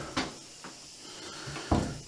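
A freshly adjusted wooden door swings shut, giving a couple of soft knocks followed by a firmer close thud near the end, close by and clear, with no talking.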